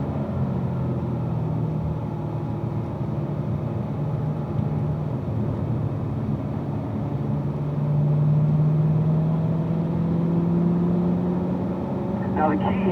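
A car engine on a race track, loud steady droning revs with a pitch that rises, drops and climbs again through gear changes approaching a turn, close and continuous.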